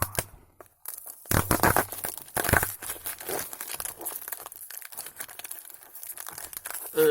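Crinkly plastic and cardboard packaging around a small thermostat is torn and wrestled open up close. Loud bursts of crumpling, ripping and crunching come and go over several seconds, with no voices.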